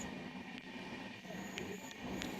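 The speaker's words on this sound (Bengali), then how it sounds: "মুহূর্তে আমাদের ট্রেন পার করছে সেবক স্টেশন।" A train passes Sevoke station in the hills of northern West Bengal, heard as a continuous low rumble of the rail cars with faint, thin high-pitched wheel squeals rising now and then.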